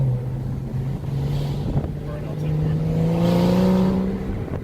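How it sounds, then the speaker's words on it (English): Car engine blipping to match revs on a downshift, heard from inside the cabin as a steady drone that climbs and falls in pitch, with brief voices over it. "You feel how it rev matches?"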